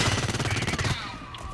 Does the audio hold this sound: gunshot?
yes